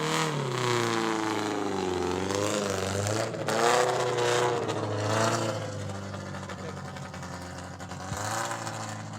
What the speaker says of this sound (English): Here it comes, 1938 Tatra, which is an exceedingly rare car.